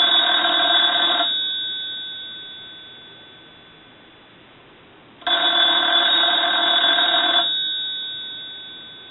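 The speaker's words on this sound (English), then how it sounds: "we can go ahead and ring the telephone" An Automatic Electric three-slot payphone bell rings loudly in two long bursts separated by a few seconds of silence, the second ring starting with a sharp click.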